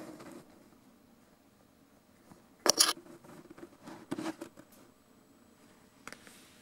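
Snips of scissors cutting material into tiny pieces, a few quiet sharp clips close by with soft rustling between them and faint background noise.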